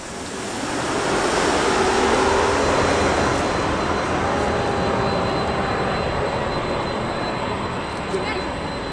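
A Boeing 787 jet landing at an airport, a loud sustained roar that swells and holds steady for several seconds at moderate distance, with a faint voice briefly audible under it.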